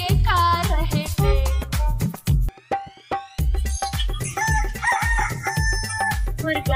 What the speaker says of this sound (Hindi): मुर्गा बोले कुकड़ू, मुर्गा बोले कुकड़ू, मुर्गा बोले कुकड़ू, हुआ सवेरा